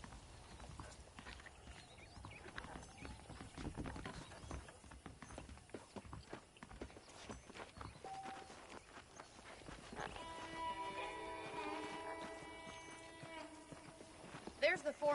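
Horse hooves clip-clop at a steady walking pace through a Red Dead Redemption ranch scene, moderately close and running under spoken dialogue and background music for most of the stretch.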